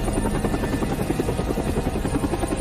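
A rescue helicopter arrives with a loud, continuous rotor chop and engine roar that fills the scene throughout, close and steady, with no talk.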